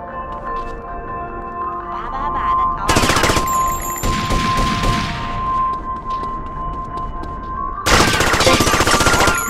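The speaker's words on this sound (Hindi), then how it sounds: "पुलिस वाले गोली चला रहे हैं।" Bursts of rapid police gunfire in GTA Vice City erupt twice over a busy game soundscape, loud and close, with sustained rattling volleys separated by a stretch of ambient noise and distant shots.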